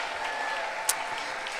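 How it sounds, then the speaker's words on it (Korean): An audience at a church quiz event claps steadily in a dense, continuous wash of applause, with one sharp clap or knock standing out briefly. "큰 박수로 모시겠습니다"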